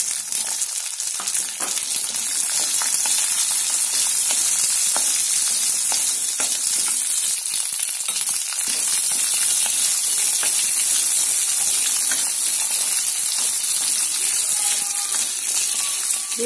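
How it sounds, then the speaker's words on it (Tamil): Onions, garlic cloves and dried red chillies sautéing in hot oil, a loud, continuous close-up sizzle and crackle that holds steady throughout with faint stirring knocks, no speech. "கூட வரமிளகாயும் சேர்த்து வதக்கிவோம்."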